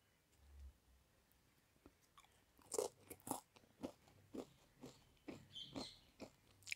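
Crunchy bites into Open Secret Choco Crunch chips, nacho-shaped chocolate chips, at close range, a quick series of sharp crackling crunches with brief chewing between them and no talk.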